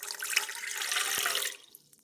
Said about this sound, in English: Warm water on top.